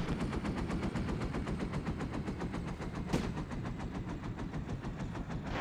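Sustained rapid machine gun fire rattles loud and continuous, a dense regular burst pattern running throughout with one sharper crack midway; no talking.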